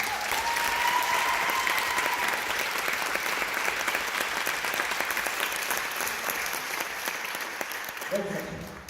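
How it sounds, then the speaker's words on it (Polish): An audience at a team-building talk breaks into sustained applause, dense even clapping from a large crowd that carries on for most of the stretch before tapering off as a voice begins. "totalnie wielkie brawa do tego"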